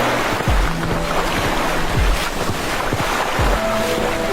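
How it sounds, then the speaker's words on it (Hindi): Sea waves wash onto a beach at night, a steady broadband surge with soft low thumps of breaking water and wind rumble, fairly loud and continuous with no voices. "समुद्र की लहरों की हल्की आवाज के अलावा कोई और हलचल नहीं थी।"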